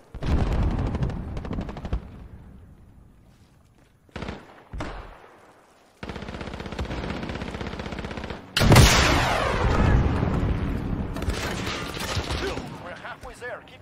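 Light machine gun fire in a video game comes in loud, rapid bursts separated by short pauses, followed by a heavier blast and sustained shooting, with voices in the background.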